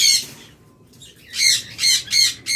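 Loud, harsh bird squawks in a burst at the start, then a pause and three more raucous calls in quick succession, close by.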